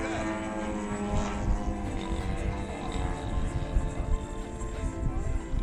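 Electric RC airplanes, including a Dynam Cessna 188 crop duster with a 1500 mm wingspan, drone overhead at a flying field, a steady buzzing motor whine that swells and fades with passes, with wind rumble and a voice talking underneath.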